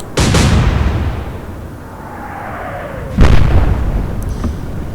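Naval guns fire in the Atlantic Fleet naval combat game, two loud booming shots a few seconds apart, each with a sharp crack and a rumbling tail, plus a faint whistle of a shell between them.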